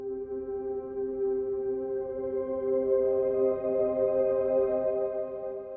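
A soft, simple synth pad from the PianoBook Family Pad 3 library sustains a mellow chord with gently swelling volume for several seconds, quiet and alone.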